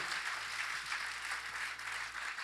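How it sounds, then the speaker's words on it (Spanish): Faint, steady applause from a church congregation at a Spanish-language service, heard as a soft, distant wash of clapping with no voices on top. "dale un aplauso al Señor"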